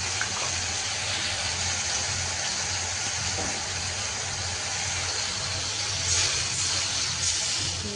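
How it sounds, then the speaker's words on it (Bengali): Water is added to a pan of frying ginger-tomato paste, producing a steady, close rushing and bubbling hiss that holds evenly throughout without speech. "জলটা দিয়ে দিলাম।"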